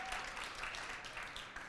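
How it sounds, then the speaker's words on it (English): Faint, steady applause from an audience at an event on immersive performance, a soft continuous patter of many hands heard from a distance with no voices on top. "You get the applause at the start"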